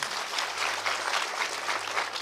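Steady applause from an audience at a Marathi devotional kirtan, dense clapping filling the whole stretch without a break.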